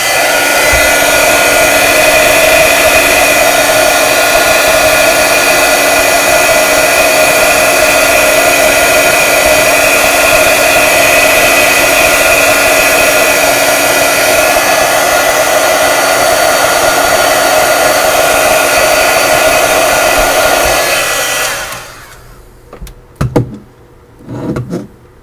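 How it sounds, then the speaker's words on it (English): A heat gun blows a loud, steady roar for about twenty seconds while drying ink for stamping and embossing, then cuts off, leaving a few faint clicks and handling sounds. "Your heat gun again."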